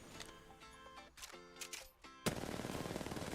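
Rapid automatic gunfire rattles from a weapon aimed at practice targets in the Apex Legends video game, with short bursts early and then a dense, sustained stream of shots to the end.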